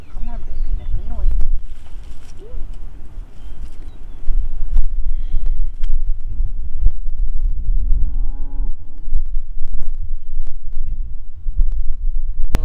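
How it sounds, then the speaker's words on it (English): A cow moos loudly nearby a few times, low drawn-out calls rising and falling, over steady wind rumble and occasional handling noise. "So that cow right there is mooing and looking around."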